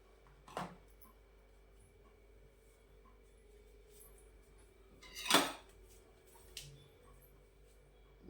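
A spoon stirs a cheese powder mixture in a bowl, giving a few sparse, quiet clinks against the bowl separated by long stretches of near silence.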